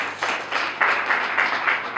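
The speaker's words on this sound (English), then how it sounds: "Please, a round of applause for them." At an International Women's Day celebration, a crowd gives a round of applause in swelling bursts, fairly loud and close, with the clapping pulsing rather than staying even.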